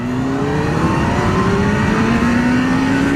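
A Kawasaki GTR1400 touring motorcycle engine pulls hard in second gear, its steady loud drone rising smoothly in pitch throughout, with constant rushing wind and no talking.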